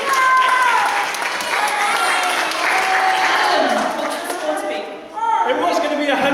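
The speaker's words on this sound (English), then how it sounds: "we need to cheer these girls on" Studio audience at a live game show applauding and cheering contestants, dense clapping with whoops and whistles, loud and close, dipping briefly near the end before surging again.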